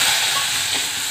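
Coarsely ground green chilli, garlic and cumin frying in hot oil, a steady loud close sizzling hiss with no pauses.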